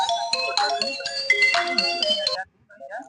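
A mobile phone ringtone plays a bright electronic melody loudly and close by in a village setting for about two and a half seconds, then cuts off, leaving faint sounds.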